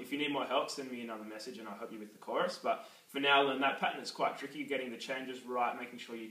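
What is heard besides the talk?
No distinct noise like a dog, phone or traffic.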